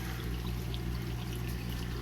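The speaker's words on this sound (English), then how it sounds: "This is the final chamber where the water gets sent up and it gets pumped above" Water flows steadily through the chamber of a homemade plant refugium filter, a continuous close pouring and trickling with a low pump hum beneath and no voices.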